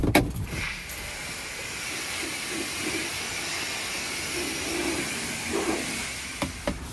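A pressure washer sprays a camper van at Palmer Car Wash with a loud, continuous broadband hiss, bracketed by sharp clicks at the start and end.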